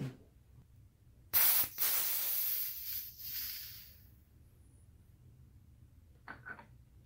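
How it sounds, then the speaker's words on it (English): Air hissing out of the Schrader valve on a RockShox bicycle suspension fork, a loud close spray that starts abruptly, fades over a few seconds, then gives two brief short bursts near the end. "Schrader valve. We're going to let all the air out."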